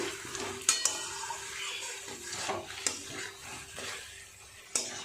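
Vegetables and spices sauté in a pan for a prawn curry, a soft steady sizzle broken by a few sharp clicks of a spoon stirring against the pan.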